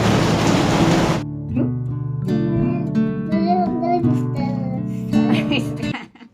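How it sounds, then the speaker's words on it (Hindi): Heavy rain pours down as a loud, dense hiss for a little over a second, then stops abruptly and gives way to tonal, voice-like sounds. "बारिश की तेज है"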